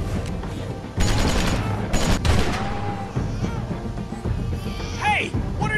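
Gunfire in The Walking Dead: Season 2 video game, a burst of several sharp shots in quick succession mixed with loud game noise and voices, followed by a fading clatter.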